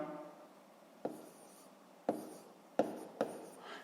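A pen writing out a maths problem on paper in a quiet room: soft scratching strokes with a few sharper taps as marks are made, close and faint.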